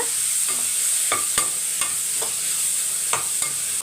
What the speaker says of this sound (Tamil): இதில் ஒரு பச்சை மிளகாய் கருவேப்பிலை போட்டு நல்லா வதக்கிக்கோங்க